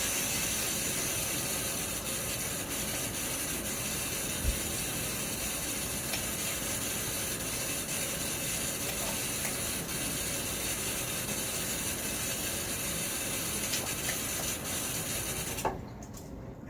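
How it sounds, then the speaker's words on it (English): Running tap water rinses a face after a wet shave with a Blackland Dart razor and Gillette Platinum blade, a steady broadband splashing hiss that holds close and unbroken for most of the stretch before cutting off near the end. "Rinse."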